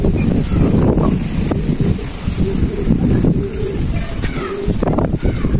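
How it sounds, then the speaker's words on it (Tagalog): Strong wind roars and buffets the microphone continuously, loud and close, with faint voices and clatter underneath. "yan lakas ng hangin."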